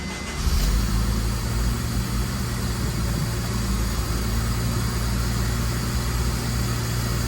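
A Honda K20 engine fitted with a throttle body thermal gasket runs at a cold-start idle with no intake attached, holding a loud, steady, close rumble with no voices.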